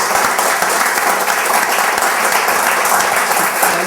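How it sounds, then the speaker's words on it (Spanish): An audience applauds steadily at a talk event with two speakers, loud, dense continuous clapping with no gaps throughout. "pedirles un aplauso para ellos"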